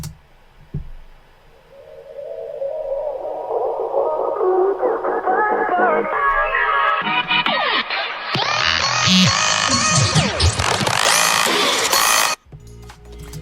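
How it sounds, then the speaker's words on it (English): An electronic music loop builds steadily as a filter sweep opens from muffled to bright, rising over several seconds before cutting off abruptly. "that filtered loop sounds like this."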